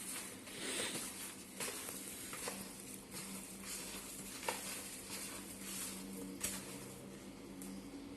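Bread batter with egg is mixed in a bowl for spicy bread manchurian, a steady wet squelching and stirring at close range with a few soft clicks, no talking.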